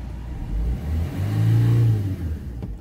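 A Citroen Nemo van engine with a heavily blocked DPF starts and revs, its steady mid-pitched drone rising to a louder, fuller rev in the middle before settling back, close by with no talk.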